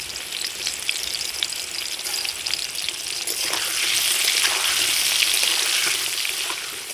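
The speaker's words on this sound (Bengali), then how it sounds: "আলুটা ভাজা হয়ে গেছে এবার আমি আলুটাকে তুলে নেব" Potatoes with salt and turmeric fry in hot oil for mutton curry with a steady crackling sizzle that grows louder and fuller partway through, with no voices.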